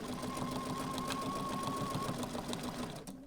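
A Bernina sewing machine stitching with a twin needle runs in a steady, fast, continuous whir close by, slowing and stopping at the end.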